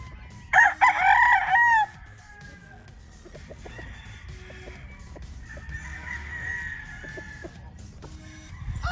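A Golden Boy brood stag rooster crows once, loud and close, in a short rising-falling call near the start, then softer clucks and distant fowl calls follow over quiet farmyard background.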